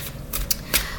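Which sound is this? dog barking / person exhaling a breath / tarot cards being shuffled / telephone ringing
tarot cards being shuffled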